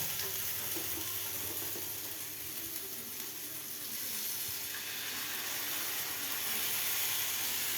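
Warm water poured into a spice paste for chhanar kofta, the pan giving a steady hissing sizzle with a faint steamy rush that swells slightly near the end, close and continuous with no talk.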